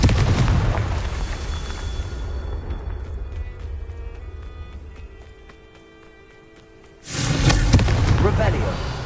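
Fire spell blast in Hogwarts Legacy: a loud, broadband burst erupts around the seventh second after a quieter stretch of game ambience and music, booming low and trailing off noisily.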